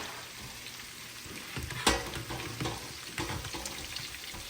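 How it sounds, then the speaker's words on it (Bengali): Homemade shami kebabs sizzle and crackle in a pan, a steady close frying hiss with a few sharper pops and faint utensil sounds. "এই যে কাবাব ভাজা চলছে"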